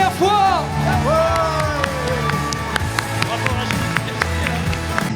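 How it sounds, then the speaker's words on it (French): A Paris Games Week crowd applauds and cheers loudly, dense clapping with whoops and shouts, while voices ring out over the noise and sharp claps punctuate the din. "On peut s'applaudir une dernière fois."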